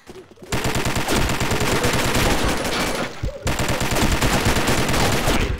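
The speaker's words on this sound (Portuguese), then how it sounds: "Só dá uns tirinhos, só pra dar uma segurada." Rapid automatic gunfire in a team-based online shooter game, two sustained bursts of dense, loud rattling shots separated by a short pause.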